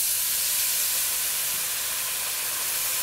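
Two and a half cups of water hit a hot pan of browning rice, setting off a loud, steady hiss of sizzling and steam that runs unbroken throughout with no talking.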